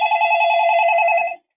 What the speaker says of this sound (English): Phone ringing here.